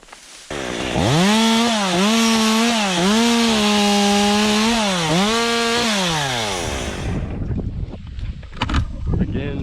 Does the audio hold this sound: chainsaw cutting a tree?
yes